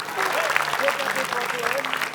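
Studio audience applauding a quiz-show team of two friends, a steady clapping wash lasting the full clip with a voice speaking over it.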